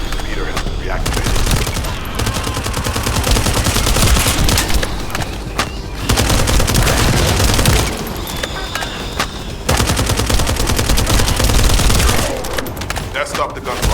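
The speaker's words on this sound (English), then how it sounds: "That stopped the gunfire." Dense bursts of rapid gunfire in The First Descendant rattle loudly in sustained volleys, broken by brief pauses, with a voice briefly heard under the shooting.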